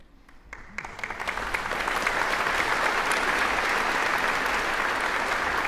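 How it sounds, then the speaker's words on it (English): A university audience at a state-of-the-university address breaks into applause, starting with a few scattered claps and building to a dense, steady roar of clapping that continues to the end. "I hope you're not applauding because you think the talk's over."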